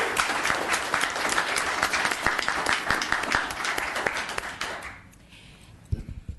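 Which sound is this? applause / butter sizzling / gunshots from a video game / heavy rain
applause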